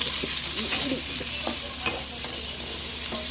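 Garlic, onion and chili sauté in hot oil, giving a steady close sizzle broken by a few scraping stirs of a utensil in the pan, with no voices.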